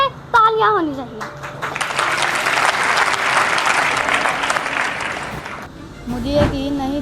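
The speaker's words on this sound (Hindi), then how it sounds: "एक बार जोर से तालियां होनी चाहिए" After a short stretch of talk, an audience at a typing speed competition at a Pakistani computer college claps loudly for the winning team for several seconds, then the clapping stops and a voice speaks again.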